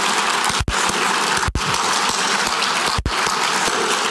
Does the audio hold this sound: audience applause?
yes